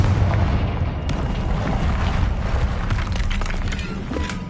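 Confringo explosive spell blasting in the Hogwarts Legacy video game: a continuous dense booming roar with crackling bursts, loud and sustained throughout.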